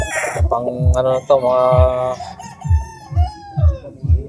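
A Kelso gamecock rooster crows loudly up close, then breaks into a run of rhythmic clucks, while someone talks over the bird.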